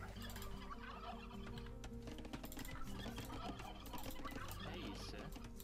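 Turkeys gobbling and clucking in the strategy game Age of Empires II Definitive Edition, a busy cluster of fowl calls over continuous game ambience and a steady low hum.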